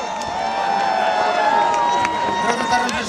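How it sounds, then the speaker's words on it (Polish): A crowd at an outdoor New Year's Eve celebration in Tarnobrzeg's town square cheers and applauds for the new town president, a broad roar of voices and clapping under steady tonal music. "Wielkie brawa dla niego"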